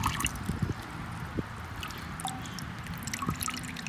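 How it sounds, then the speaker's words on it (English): Water draining and dripping from rinsed paper dyed with cyanotype solution, a close, soft trickle with scattered drips and small gurgles over a few seconds, no voices. "I'm going to very carefully squeeze it and lift it up and let it drain."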